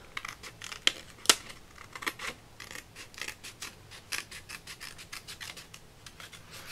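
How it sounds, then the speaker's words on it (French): Scissors cut out a handmade paper card with a vintage gear design, a close, quiet series of crisp snips and rasping slides repeating at an irregular pace, with no talk. "Je vais découper et on verra le résultat."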